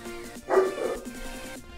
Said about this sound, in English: dog's gonna make a ton of noise